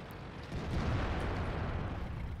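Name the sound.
artillery fire incoming in World of Tanks video game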